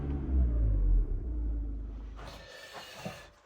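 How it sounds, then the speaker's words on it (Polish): A VW Caddy engine, noted as having injector trouble, rumbles loudly and steadily under applied throttle, then eases off into quieter broadband noise with a couple of brief knocks near the end. "Dodaję gazu."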